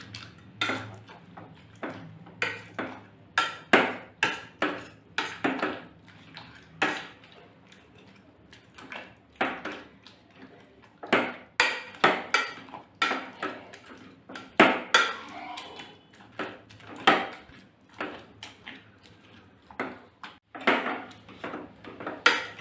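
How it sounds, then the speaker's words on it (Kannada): Cooked brinjal being mashed by hand in a bowl or pan for a Karnataka-style brinjal maskayi, heard as a close, steady run of sharp taps, squishes and clinks of utensil on vessel, with no talking. "ನೋಡಿ, ಚೆನ್ನಾಗಿ ಸ್ನ್ಯಾಶ್ ಮಾಡ್ಕೊಂಡಿದ್ದೀನಿ"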